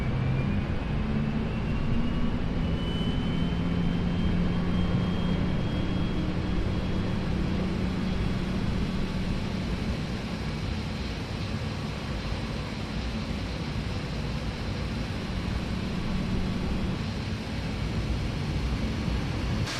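A Boeing 737-800 engine start in the FSX flight simulator, a steady turbine whine and rushing hum that slowly rises in pitch, continuous and without voices.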